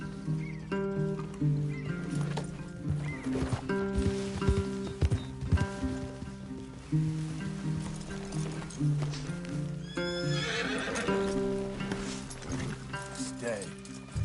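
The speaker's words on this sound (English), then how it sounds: "Leave the horses in the trees there." Horses in a PS4 video game whinny and clip-clop as their hooves beat in an uneven rhythm, set against music and game sounds while in-game characters speak over the top.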